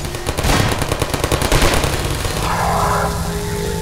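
Rapid bursts of gunfire in the Half-Life 2 video game, loud and dense, with rattling automatic shots followed by a lingering rumble.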